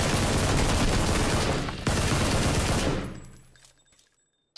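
Dense rapid gunfire in the PUBG video game rattles on as a loud continuous fusillade, breaks off briefly, resumes, then fades out toward the end.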